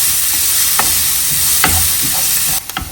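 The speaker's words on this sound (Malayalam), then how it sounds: "വെളിച്ചെണ്ണ ചൂടായി വന്നതിന് ശേഷം നമുക്ക് ചോപ്പ് ചെയ്ത് വെച്ചിരിക്കുന്ന സവാള ചേർത്ത് കൊടുക്കാം. ഇതൊന്ന് വാടി വരുന്നത് വരെ നന്നായിട്ടൊന്ന് ഇളക്കി കൊടുക്കാം." Loud, close sizzling of chopped onions in hot coconut oil, a bright continuous hiss broken by a few scraping stirs, ending with sharper clatters.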